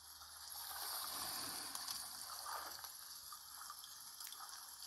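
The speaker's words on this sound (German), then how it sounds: "Lauscht noch einige Zeit dem Wasserrauschen" A stream rushes and gushes continuously, a steady broadband wash of moving water heard close up with no voices.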